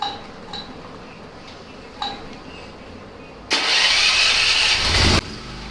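A 2.5 kW petrol/gas generator starts after a few faint clinks, then its small engine runs loud and steady for a couple of seconds before dropping back.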